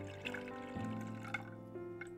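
Water is poured into a cooking pot of potatoes in a kitchen, a steady trickling and gurgling fill with faint clinks, no talk over it.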